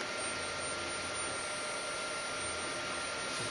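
A Mitsubishi RV3SB six-joint industrial robot drives its second joint axis, giving off a steady, even servo whine and hum with no speech over it.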